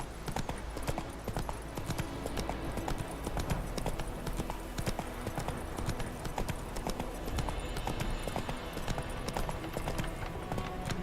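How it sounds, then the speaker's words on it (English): Horse hoofbeats from The Witcher 3: Wild Hunt, a rapid, steady galloping clatter of hooves running nonstop at close range, with faint game ambience and no clear talk. "Run, Roach."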